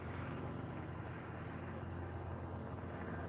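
Small propeller airplane in flight, heard as a steady, loud broadband engine drone with a low hum that holds constant throughout.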